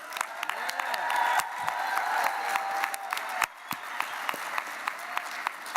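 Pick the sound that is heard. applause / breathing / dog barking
applause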